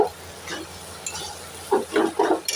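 Semolina is stirred continuously in a frying pan over a high gas flame, giving soft scraping strokes and small metallic clinks of the utensil against the pan. It is close and fairly quiet, with no talking.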